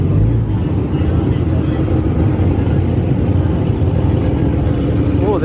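A Lamborghini Huracan engine roars loud and near in a car-meet parking lot, a dense continuous growl with rising revs at the end, while voices talk over it.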